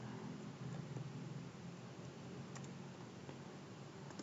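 Rapid keystrokes on a computer keyboard while entering a Linux disk-formatting command, a steady run of soft clicking taps over faint background hiss, with no talking.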